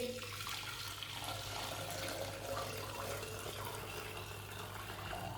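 Water mixed with dissolved jaggery poured through a strainer into a pot, a steady continuous splashing and trickling stream, close and fairly loud, with no talking.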